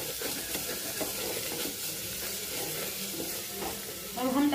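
Masala with kasuri methi and half a spoon of garam masala stirred in a hot pan for jackfruit sabji, a continuous sizzle and scraping that swells louder in the final moment.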